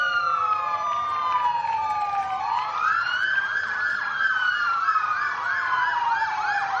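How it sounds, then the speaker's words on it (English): Police and emergency vehicle sirens blare together at a civic parade, loud and close, with one tone sliding steadily downward before a rapid whooping wail repeats over a constant background hum. "you're going to have to get a lot louder than that to get over those sirens"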